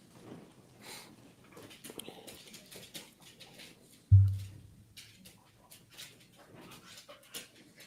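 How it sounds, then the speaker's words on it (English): Dogs scuffling and playing on a floor, soft padding, thumps and whimpers with one sharp low thud midway, faint and close in a quiet room. "The dogs are having rumbles on the floor here."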